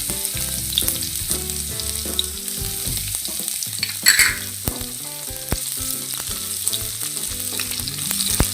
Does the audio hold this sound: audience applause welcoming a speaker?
no